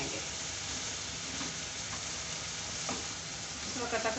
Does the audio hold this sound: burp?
no